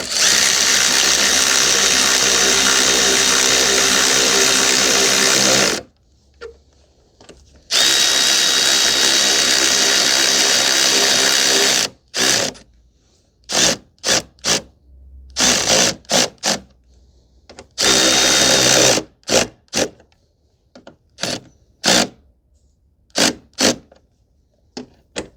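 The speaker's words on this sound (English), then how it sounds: "Tighten up these bolts now." A power tool tightens plastic-mounted headlamp bolts on a 2017 Ford F-150 3.5 EcoBoost, running in loud sustained bursts of several seconds, then short stuttering pulses with pauses between them.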